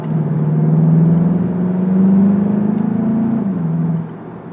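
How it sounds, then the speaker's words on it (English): A 2020 Volkswagen Jetta GLI with a 7-speed automatic accelerates, its engine droning loud and close as the revs climb steadily before easing off near the end. "Let's see, throttle response."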